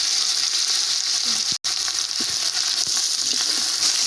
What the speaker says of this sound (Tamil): தக்காளி வெங்காயம் நல்லா பொன்னிறமாக வதங்கட்டும்.